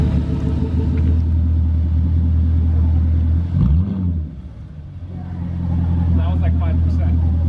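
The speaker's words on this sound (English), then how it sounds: "Now it finally sounds like a V8. Oh, just quiet it down. Man, but that is a deep rumble." A Jaguar XK with a 5.0 V8 and its muffler deleted idles with a deep, loud rumble, rises in one rev, drops back quieter, then settles into a heavy burble again while people talk over it.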